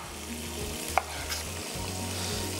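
Shrimp frying in a pan with a steady, close sizzle and soft crackle throughout, one sharp clink of a utensil partway through, no talking.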